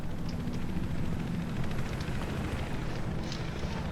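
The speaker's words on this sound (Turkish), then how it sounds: "O helikopter bizden değil değil mi?" An enemy helicopter passes overhead in the video game Battlefield 4, a steady broad rotor roar and rumble that holds at moderate level for several seconds with no talk.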